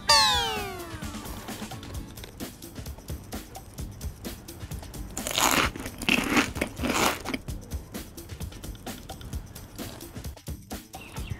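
Potato chips crunch in a few loud, crackly bites clustered together, with cat-like mewing and other sounds around them.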